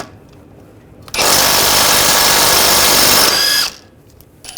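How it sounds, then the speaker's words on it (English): A power tool with an 18mm socket spins a tie rod nut off a 2009-2017 Volkswagen Tiguan, giving one loud, steady whirring burst of about two and a half seconds that stops abruptly, near and alone. "Using an 18mm socket,"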